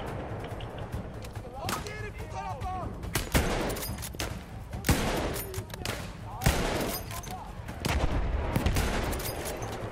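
Gunfire in the WWI shooter Battlefield 1, with dense rattling bursts and sharp shots throughout, while someone talks over the battle noise.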